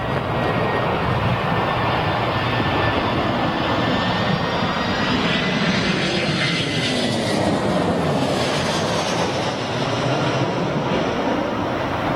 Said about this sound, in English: as soon as it touches down, loses all its aerodynamic lift